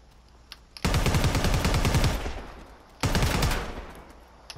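Rapid automatic gunfire from Predator: Hunting Grounds, two loud sustained bursts, the first about a second and a half long and the second shorter, after a brief pause.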